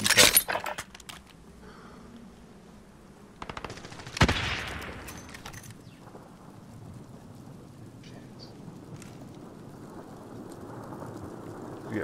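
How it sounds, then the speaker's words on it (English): Gunfire in the Warzone battle game, a sharp burst of rapid shots at the start and another loud crack around four seconds, then a low rumbling ambient wash, no talk. "Taking fire, that person just hit me."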